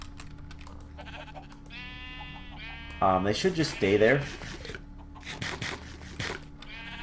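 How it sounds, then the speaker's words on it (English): Summoned sheep in a video game bleat in several loud, wavering calls over a steady game hum, with a player talking briefly. "let's go ahead and we'll just summon in some more sheep"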